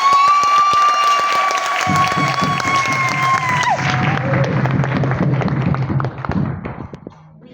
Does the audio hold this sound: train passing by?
no